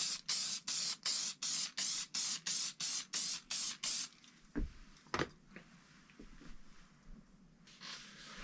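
Case lube is sprayed onto rifle brass for 300 Blackout reloading: about a dozen quick, even hissing bursts in a steady rhythm, followed by a few sharp clicks and knocks of handling in a quiet room.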